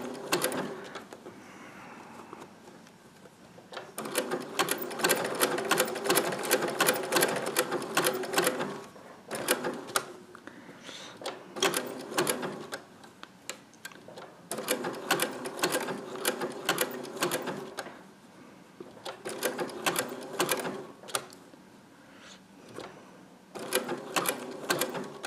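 A sewing machine stitches through a quilt in several long runs, its fast steady needle rattle stopping and restarting between bursts, close and clear with no talking.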